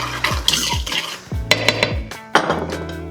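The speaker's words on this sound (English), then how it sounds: "stir it up." A spoon clinks and scrapes against a bowl while lemon bar mixture is stirred, several sharp taps and knocks at an irregular rhythm, close and clear, no voices.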